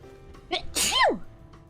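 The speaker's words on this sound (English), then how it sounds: "I think I'm gonna sneeze." A single sharp sneeze from a person, close and loud, with a short breath beforehand and a quick burst that fades within about half a second.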